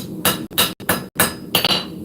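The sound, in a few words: hammer striking steel while forging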